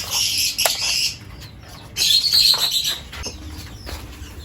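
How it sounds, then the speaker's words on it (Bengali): Bursts of fluttering wingbeats as pigeons take off nearby, in two loud rushes separated by a pause, with faint chirps in between. "ভেতরে ঢুকে পায়রাগুলোকে বার করব একটু উড়াবো"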